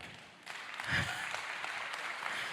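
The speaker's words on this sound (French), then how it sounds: "Je pense qu'on peut déjà les applaudir." Soft, distant applause from a crowd, steady and faint, picking up slightly after a moment.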